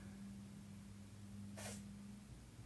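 A single short, sharp sneeze lands about halfway through, set against a quiet room with a low electrical hum.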